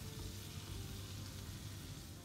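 Salted butter melts and sizzles in a pan, giving a soft, steady crackling hiss that goes on without pause throughout, fairly quiet and close, with no talking.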